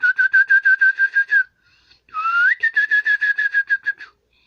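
A person whistles in imitation of birdsong: two lively phrases of rapid, evenly repeated high chirping notes, each ending with a quick upward slide, separated by a brief pause, clear and close.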